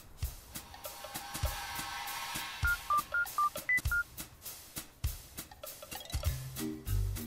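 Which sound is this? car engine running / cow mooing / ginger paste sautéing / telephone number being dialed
telephone number being dialed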